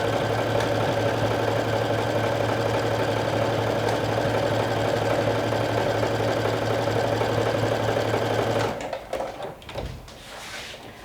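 Sewing machine stitching a skirt pocket seam, a steady close mechanical whir running evenly for most of the stretch before stopping, followed by a few handling knocks.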